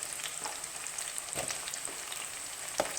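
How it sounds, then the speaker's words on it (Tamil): Garlic sizzles in hot oil with a continuous crackling hiss, broken by a few soft stirring clicks, with onion, as the base for a rock fish curry made without coconut. "பூண்டு வதங்கட்டும்"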